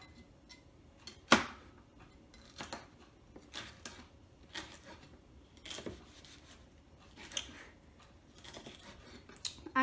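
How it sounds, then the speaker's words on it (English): A knife slices a pepper into strips on a board, giving a series of faint, irregular cuts and taps with a few sharper clicks, quiet and close. "Now I'm gonna just cut these into nice little strips."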